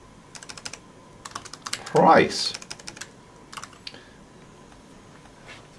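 Quick bursts of computer keyboard typing, irregular clusters of close, crisp key clicks with pauses, while a person briefly speaks in the middle.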